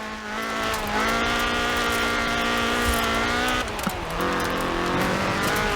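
Ford RS 1800 rally car in the racing game Forza Horizon 4, its engine holding a loud, steady high-revving drone, with a brief dip and a gear change before climbing again, alone without talk.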